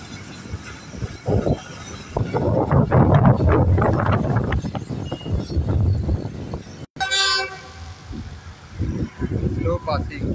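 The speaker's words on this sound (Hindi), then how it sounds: "स्लो पासिंग GE40 लोकोमोटिव के साथ रेड ट्रेन हाफ ट्रैक पे आई है" Red passenger train with a GE40 locomotive passing slowly on the half track through Malir station, a loud rumbling roll with a sharp horn toot midway, under a voice talking.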